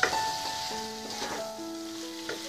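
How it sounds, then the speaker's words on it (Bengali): Potatoes and spices frying in a pan for a raw jackfruit and prawn dish give a steady soft sizzle, with sustained melodic tones running over it throughout. "আলুর সঙ্গে মশলাটাকে ভালো করে কষিয়ে নিয়েছি"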